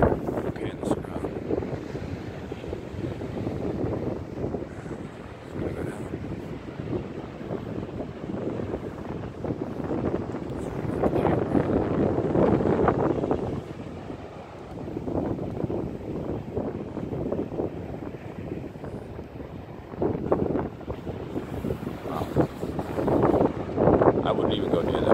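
Strong gusting wind and a rough, stormy sea at Plum Island, with heavy buffeting wind noise on the microphone and surges of breaking surf that swell and ease in waves, all loud and close.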